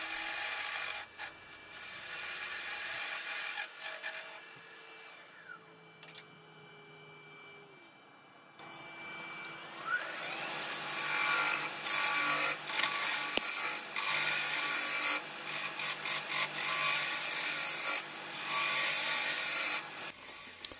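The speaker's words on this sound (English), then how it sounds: "you can also use a bowl gouge to do your roughing out" Bowl gouge roughing out a branch blank spinning on a wood lathe, a steady rasping, scraping cut that grows louder and denser in the second half, with short pauses between passes.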